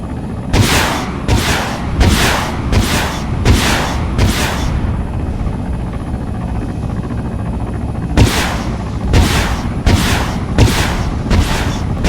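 Loud video game gunfire comes in two clusters of rapid booming shots, about six blasts, then a lull of several seconds, then another run of five or six.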